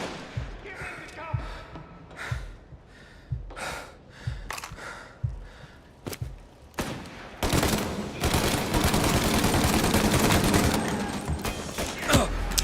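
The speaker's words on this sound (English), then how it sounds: "Man, this Tommy gun sucks." Tommy gun fire in the video game Mafia: separate single shots in an uneven rhythm, then a dense, sustained burst of rapid automatic fire, with breaths and other game sounds between.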